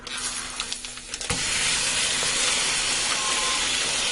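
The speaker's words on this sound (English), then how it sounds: "I just want to fry these until they're brown." Beef cubes, about 1.5 pounds, hit hot oil with a sharp clatter, then a loud, steady sizzle and hiss that continues without letting up, browning for beef noodle soup.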